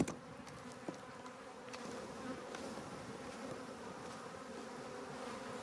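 Honey bees from a hive being moved out of a water meter box hum in a dense, continuous swarm drone, nearby and steady, with a few faint knocks early on and no voices.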